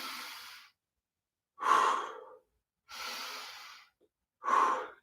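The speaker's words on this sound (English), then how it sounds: "In through your nose. Out through your mouth. Try and get as much oxygen in as you can. Nice deep breath. And let it go." Slow, deep breaths during an at-home exercise session, four clear bursts alternating inhale and exhale, close and loud, with soft airy inhales and stronger, louder exhales, no talking.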